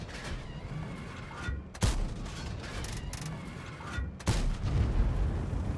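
Tank cannon shots in World of Tanks, Tier IX Foch: two sharp booming reports about two and a half seconds apart, each followed by louder rumbling, over constant engine and battle noise.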